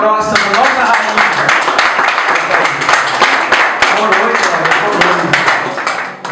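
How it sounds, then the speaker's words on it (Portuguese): Guests at a birthday party in Surubim clap after a prayer for the honoree, close and loud rapid clapping from a small group, with voices mixed in underneath. "Vamos aplaudir agora a oração da nossa rainha"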